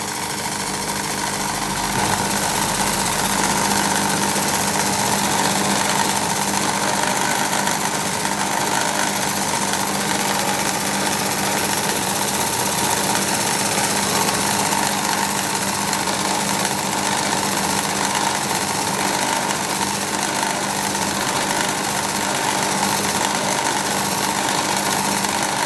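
A machine drill with an 8-32 tapping drill runs continuously at a steady, loud pitch, a constant mechanical whine with a slight rhythmic chatter throughout, machining a model finger engine part.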